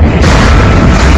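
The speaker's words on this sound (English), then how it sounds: "That was a big boom." A huge explosion boom from the X-Files film Fight the Future, loud and overwhelming, its deep roar filling the whole moment without any talk.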